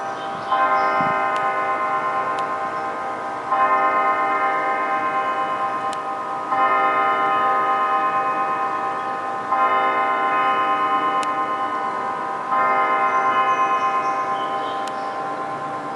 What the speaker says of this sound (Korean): 한국에서 듣던 종소리 같네요